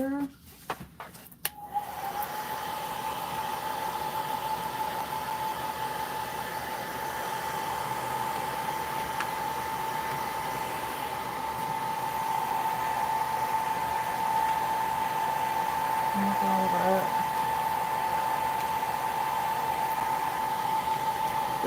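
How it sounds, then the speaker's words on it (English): A hair dryer blows steadily to dry watercolor paint, a constant whirring hum with a faint tonal whine that runs unbroken for about twenty seconds after a few brief clicks at the start. "Dryer."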